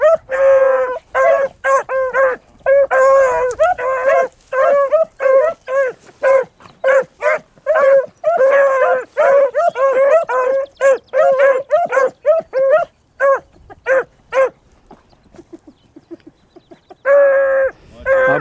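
A pack of beagles bays loudly on a rabbit's trail, a fast run of overlapping yelps and howls that thins to scattered cries, goes quiet briefly, then swells again near the end.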